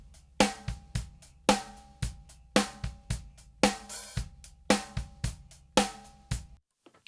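Drum kit processed through a SoundToys digital EQ plugin with heavily boosted bass and highs: a steady groove of punchy, booming kicks and bright, splashy cymbal and snare hits, loud and alone.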